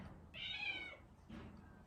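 A cat gives one clear, drawn-out meow followed by a second shorter, fainter meow, close by in a quiet indoor room.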